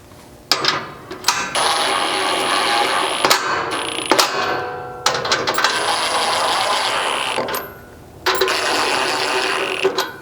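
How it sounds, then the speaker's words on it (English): A ratchet with a 3/4 socket runs up slider bolts on a 3rd-gen Toyota Tundra, giving bursts of rapid metallic clicking, several seconds each, separated by short pauses, close and fairly loud. "I'm going to grab a 3/4 socket and we'll kind of run these up just to pull this closer to the frame"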